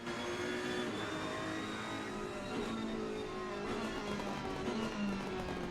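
An Audi race car running side by side with a rival at Silverstone, heard as a steady, fairly faint high engine drone with shifting revving tones, continuous and without speech.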